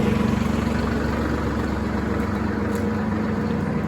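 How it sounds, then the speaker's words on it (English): A farm tractor engine idles steadily while warming up in cold weather, giving a constant low, throbbing rumble with an even rhythm and no change in pace. "Sorry, the tractor is warming up."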